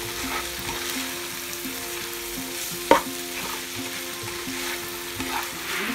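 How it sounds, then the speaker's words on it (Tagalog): Mushrooms sautéing in a pan for a Filipino-style carbonara, a bright continuous sizzle with light stirring scrapes and one sharp utensil clack near the middle, close up and without voices. "Ang mushroom po madali lang naman siya maluto. So, igisa-gisa niya lang po ng konti."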